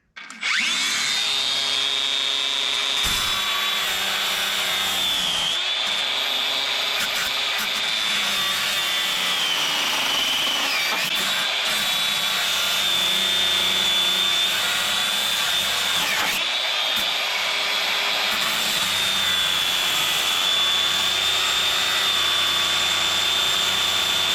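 A metal grinder fitted with a cut-off wheel whines steadily at a high pitch while cutting metal, loud and close, dipping briefly a few times as the wheel bites and is eased off.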